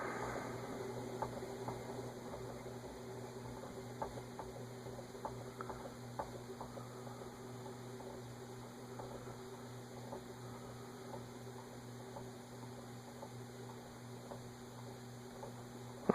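An Emerson Casablanca Classic ceiling fan, a rare 42-inch brushed nickel model, slowing toward low speed gives off a faint steady hum with soft irregular clicks and ticks from its mechanism, alone in a quiet room.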